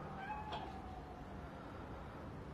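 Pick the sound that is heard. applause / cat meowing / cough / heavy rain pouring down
cat meowing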